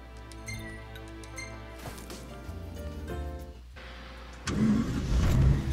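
Car engine in the Final Fantasy XV video game, a steady mid-pitched hum under game music that swells louder near the end as the car gets moving.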